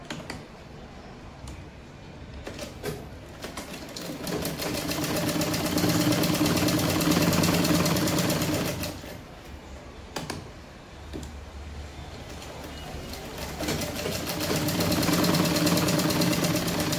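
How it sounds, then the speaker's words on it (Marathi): A sewing machine runs in close, continuous bursts while stitching the back panel onto a blouse at a half-inch seam, its rapid mechanical whirr speeding up and slowing with brief pauses between runs, no talking. "पाठीमागचा भाग जोडून घेते मी. अर्धा इंचावरती टिप मारते."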